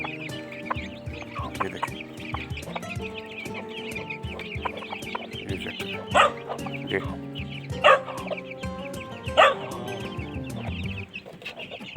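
A hen clucks repeatedly close by while a dog harasses her and her chicks. A few sharp louder calls stand out over steady farmyard noise, and someone talks briefly.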